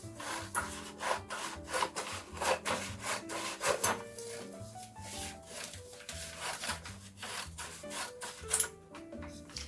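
An illustration sheet is cut to size with rhythmic back-and-forth sawing or rasping strokes, close and continuous, over a soft tonal musical backdrop.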